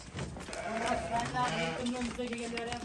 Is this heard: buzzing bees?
no